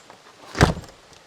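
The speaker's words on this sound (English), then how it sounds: "Let me see if I can shut this door." A door slams shut nearby in a single solid thud, loud and brief against a quiet background.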